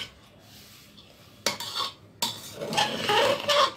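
Pulao rice with peas, paneer, dry spices and ghee is stirred in a pot: a quiet start, then scraping spoon strokes and soft clinks against the metal, close and growing busier toward the end.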